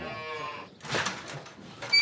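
Cows lowing during an emergency vaccination in a farm pen in Vaud, Switzerland, one drawn-out tonal moo followed by clattering and shuffling movement, fairly close, with no talking.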